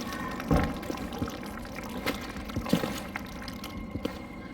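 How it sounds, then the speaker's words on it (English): Low, liquid bubbling and glugging burbles like lava under a dull ambient rumble in the video game Amnesia: Rebirth, with irregular soft pops like a thick fluid boiling. "Almost sounds like bubbling lava."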